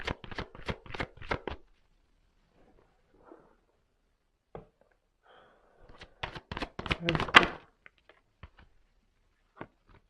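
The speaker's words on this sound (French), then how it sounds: "Allez, je prends une carte encore." Tarot cards being shuffled and drawn, with quick bursts of riffling flutter in two clusters separated by near silence and a few soft isolated taps, close and crisp.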